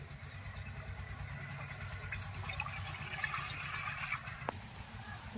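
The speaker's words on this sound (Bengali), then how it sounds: "এবার কড়ার মধ্যে জল দিয়ে দেব জলটা আমি স্টিলের বাটির দু বাটি দেব" Water from a steel bowl pours steadily into a wok set on a stove, a continuous close splashing rush with a low background hum.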